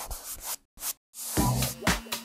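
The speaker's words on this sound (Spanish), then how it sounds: "nos toca empezar con la lija" Sandpaper rubs back and forth across wood in short, raspy strokes, close and fairly loud, with brief silent gaps between bursts.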